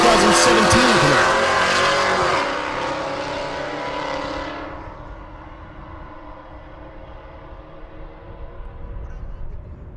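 Drag race cars, a 1968 Camaro and a 2017 Camaro side by side at Rocky Mountain Race Week, roaring loud and close at first, then fading quickly into the distance as they pull away.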